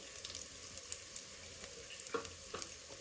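Chopped ginger, garlic and curry leaves land in a hot frying pan for yellow rice, giving a soft steady sizzle with a few sharper crackles and stirring clicks, close and fairly quiet, with no voices.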